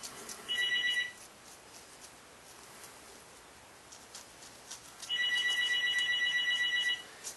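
A telephone rings indoors in two electronic trilling bursts, a short one and then a longer one, heard clearly over quiet room tone.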